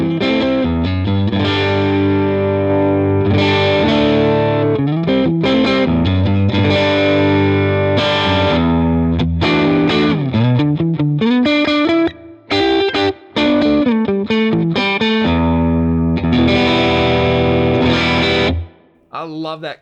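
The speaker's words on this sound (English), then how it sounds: "Let's hear the AC20 on its own, and then I will kick in this Deluxe Verb." Distorted electric guitar plays through Axe-Fx AC20 and Deluxe Verb amp models, chords and riffs ringing loud and sustained with short pauses, ending abruptly.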